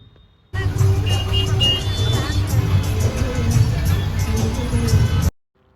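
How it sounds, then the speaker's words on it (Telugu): Inside a crowded, noisy bus on a Tamil Nadu road trip, an engine hum runs under constant babble from many passengers. It starts and stops abruptly and holds an even, busy level in between. "బస్సులో చూసారా ఎంత గోలగా ఉందో"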